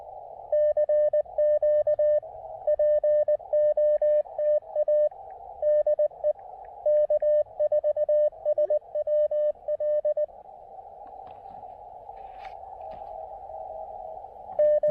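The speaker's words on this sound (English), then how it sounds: "I hear somebody calling CQ underneath me." A faint amateur radio station sending a CQ call in Morse code, steady beeping tones on one pitch in an irregular keyed rhythm over a low hiss, heard during an outdoor park activation.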